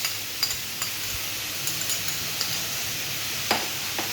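Chicken cooking in a pan with tomato paste, chili, sugar and cumin powder, stirred with a utensil. A faint, steady sizzle runs underneath, with a few light scrapes and taps scattered throughout.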